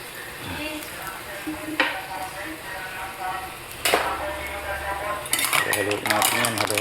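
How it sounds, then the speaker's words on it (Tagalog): Mussel adobo with tomato and soy sauce stirred in a pot, a spoon scraping and clinking against metal over a soft sizzle, with sharper clatters near the end. "Haluin natin yan, haluin."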